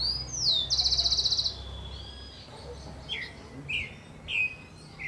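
A thrush sings in a home park, with a bright whistled phrase, a rapid trill, and then several short chirping notes spaced apart. The birdsong stands out clearly over a faint low background hum.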